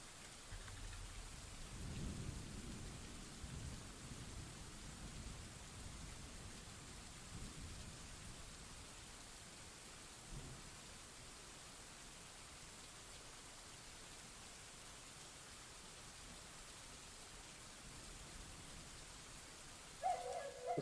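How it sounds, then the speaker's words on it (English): Steady rain falls in the video game Dwarf Fortress, a soft continuous hiss with low rumbling thunder rolling through early on and again midway, quiet and distant, with no speech. "Oh, it's still raining."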